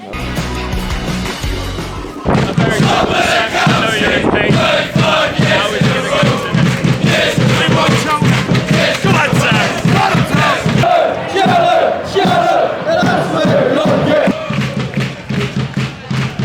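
A football crowd chants at a Cheltenham Town match against Fleetwood Town, a loud, close mass of voices roaring in rhythmic bursts that continue without a break after a short opening.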